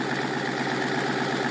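A Chrysler 300C with an aftermarket exhaust idles with the valve open, a steady, deep, throaty rumble with a low pulsing burble, close and continuous, no voices.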